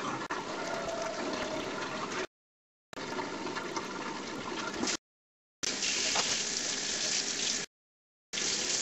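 Water draining from a kitchen sink after washing dishes, a steady gurgling rush broken by several abrupt silent gaps, close and fairly loud.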